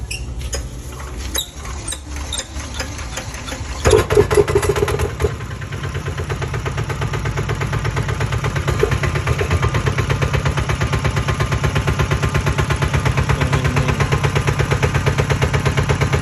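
An old Japanese Yanmar NFAD8-L 8 hp diesel engine with electric start cranks with sharp clatter, catches around four seconds in, then settles into a loud, steady, rapid chugging idle close by.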